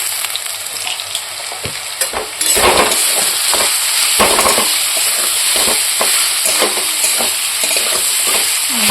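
Small parshe fish sauté in a pan with chilli, turmeric and cumin powder, a loud close sizzle that swells partway through, punctuated by stirring scrapes.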